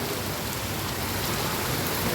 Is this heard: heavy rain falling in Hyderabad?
yes